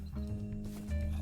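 A Minecraft horse fitted with a saddle and horse armor gives a short, close whinny-like vocal call in a brief moment of game sound.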